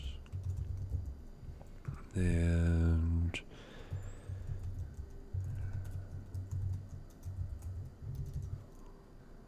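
Quick clicking keystrokes patter on a small keyboard, with a loud buzzing tone cutting in briefly and a short spoken word.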